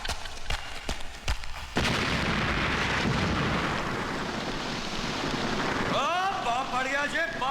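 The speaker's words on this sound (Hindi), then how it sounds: "बम पड़ गया जी, बम।" A bomb explosion in a Hindi movie scene: a few sharp knocks, then a sudden loud roaring blast that rumbles on for several seconds before fading under warbling, siren-like tones.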